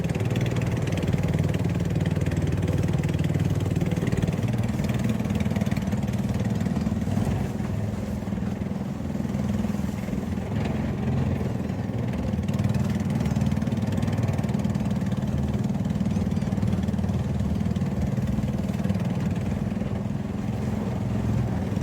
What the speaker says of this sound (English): The motor doesn't sound reliable enough.